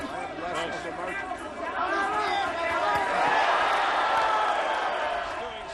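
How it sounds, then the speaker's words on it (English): A boxing arena crowd in a Marquez versus Jandaeng fight cheers, a broad roar of voices that swells midway and then eases, with babble throughout. "Doing some work, getting the cheers from the crowd."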